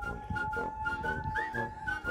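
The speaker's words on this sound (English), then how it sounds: "You hear the steam train whistle?" A steam train whistle sounds from a distance outdoors, a steady thin tone holding for about two seconds with a slight rise partway through, faint under light ambient noise.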